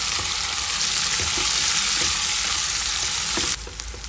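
Chopped onions and green chilies hit hot oil with browned garlic, giving a loud, steady, close sizzle that drops to a quieter crackle near the end.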